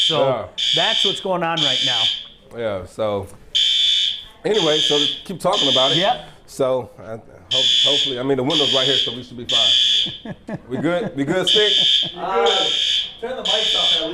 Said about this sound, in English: that was the alarm that screams